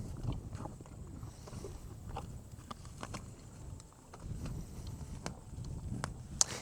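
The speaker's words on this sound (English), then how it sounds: "I'm a little afraid that the horse will bite my fingers off." A horse stands close by near a barbed-wire fence, its hooves clopping and shuffling in irregular, quiet knocks over a soft background hush, with occasional small chewing or snorting sounds.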